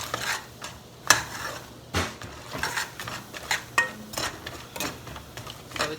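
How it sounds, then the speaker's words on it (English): Bacon being stirred into a baked beans mixture in a pot, a spoon scraping and clinking against the sides in irregular close strokes over a faint sizzle. "Mix our bacon into this."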